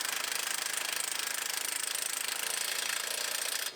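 A power tool tightens a wheel on a Pontiac G8 GT in a continuous, rapid rattling hammer that runs steadily for several seconds and then cuts off abruptly.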